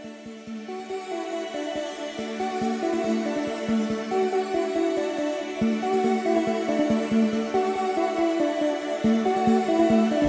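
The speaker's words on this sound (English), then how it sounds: "I added in this Centronic sound, which is Pizzicato Angel here" Soft, shimmering synth plucks ripple in a steady arpeggio, layered with light pizzicato-like notes from a Centronic Pizzicato Angel sound over a sustained hazy pad, continuous and moderately loud.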